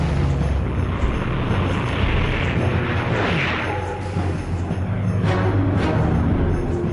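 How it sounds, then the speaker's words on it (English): Warplanes flying over Cairo at night during the 1956 Suez crisis, a broad continuous engine roar that swells and drifts overhead, steady and fairly loud with no talk. "Nasser hears planes in the skies above Cairo"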